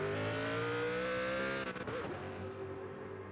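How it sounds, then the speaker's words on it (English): Race car engine in a racing video game, a loud sustained high-revving drone with steady harmonics that drops and changes tone partway through, alone without talk. "The sound that car makes"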